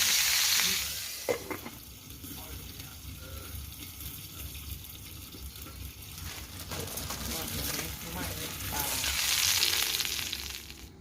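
Chicken pieces sizzle and fry in a hot pan for a Thai grilled-chicken dish, a steady crackling hiss swelling louder at the start and end, close up, with occasional stirring and faint voices beneath.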